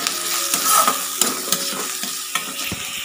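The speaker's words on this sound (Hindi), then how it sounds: "अभी मैं इसको फ्राई कर लूँगी।" Fish fries in a pan with salt and turmeric, making a constant close sizzle broken by sharp clinks and scrapes of stirring against the pan. There is no talk.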